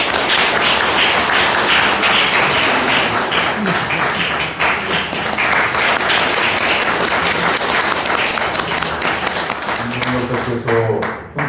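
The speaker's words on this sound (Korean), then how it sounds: "박수로 환영해 주시기 바랍니다." Loud, sustained applause from a large audience at a lecture event fills the whole stretch, dense and continuous, with a Korean-speaking voice emerging as it tapers off.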